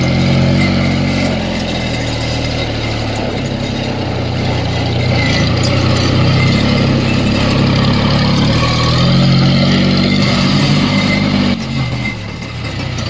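A tractor engine runs steadily in a farm field beside sugarcane, a loud, close, continuous low rumble that dips slightly near the end, with no talking.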